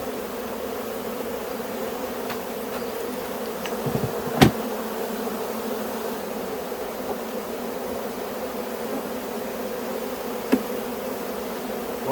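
Honeybees swarm around an open beehive, a steady close buzzing drone with a few louder individual bees zipping past, plus an occasional light knock or tap.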